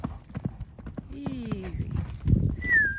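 Horse hooves clip-clopping at a slow walk during early surcingle work, a string of close irregular thuds mixed with snorts and other stable noise, with a person talking and coaxing over them.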